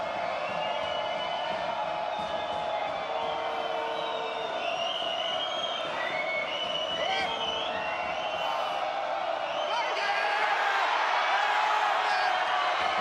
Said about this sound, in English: And this place is cheering for the right reasons now.